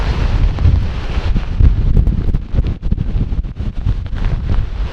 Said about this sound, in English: We got a big wind factor.